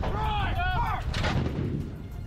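An M777 howitzer fires during the war in Ukraine, one loud booming blast that rolls into a deep rumble and echo fading away, with whooshing whine just before the shot.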